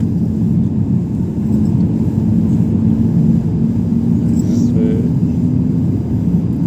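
Inside an airliner cabin during descent toward landing in Malta, a loud, steady engine and airflow drone with a low, constant hum fills the whole stretch without letting up.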